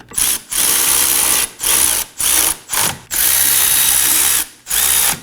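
Rear brake caliper bracket bolts on a 2016-2020 Kia Sorento run snug with a power tool, heard as several loud, close bursts of high-pitched mechanical whirring with short gaps between them, one long run in the middle.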